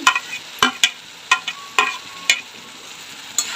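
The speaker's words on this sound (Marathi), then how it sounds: "भोपळी मिठी टाकून देऊया मी लांब लांब कट करून घेतली" Long capsicum strips sizzle and are stirred in a pan for paneer chilli, a steady fry hiss broken by about eight sharp spatula scrapes and clinks against the pan, close and loud, no talk.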